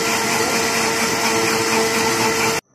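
A steady, loud electric grinder blends biscuits and milk, whirring continuously for a couple of seconds, then cuts off abruptly.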